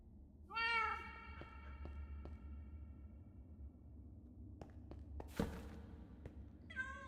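Cat in a hardcore Minecraft-style game lets out a loud wavering meow, followed by scattered clicks and thuds and another brief meow at the end.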